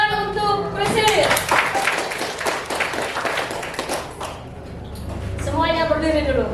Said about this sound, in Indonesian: tepuk tangan untuk Prisil.